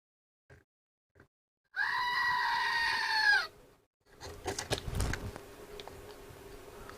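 One loud, drawn-out goat bleat lasting nearly two seconds stands out clearly, framed by a few small clicks before it and scattered handling knocks and rustles after.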